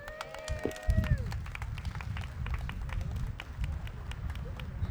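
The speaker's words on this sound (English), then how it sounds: "Give him a round of applause" Scattered claps rise from an outdoor crowd at a Long Beach community check presentation, mixed with heavy low rumble and wind-like noise, with a brief voice-like tone at the start.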